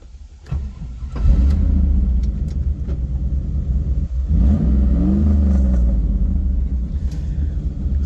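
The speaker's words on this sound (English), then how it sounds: "Some nice crackles out of the exhaust" A 1995 Chevrolet Camaro Z28 project car with exhaust crackles starts up with a deep V8 rumble, then rises through several close, loud revs with popping exhaust crackles between them.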